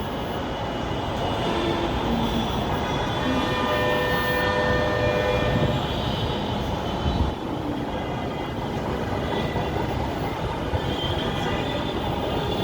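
A Dhaka metro rail train rumbles steadily at Mirpur 10 station, a loud, continuous roar of wheels and motors that holds the full length with a brief surge midway and no voices.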